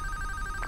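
An in-game telephone rings in a Five Nights at Freddy's horror video game, a steady electronic tone held throughout the short moment with no talk over it.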